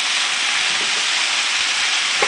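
Garlic sizzles in a pan with potatoes and onions for beef stew, a loud, steady, close frying hiss that fills the whole moment without letup.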